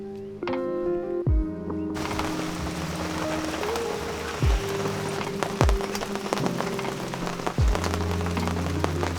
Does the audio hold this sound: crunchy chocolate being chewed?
no